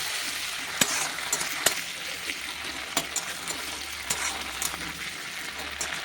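Garlic and dried fish frying in oil with a steady sizzle, punctuated by sharp spatula clacks and scraping as the pan is stirred.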